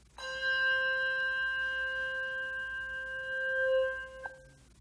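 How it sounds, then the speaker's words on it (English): A single handbell, rung once inside a church, gives a clear, pure note that rings steadily for about four seconds before being damped, alone in a quiet room. "I have some bells up here, and I'm going to make some sound."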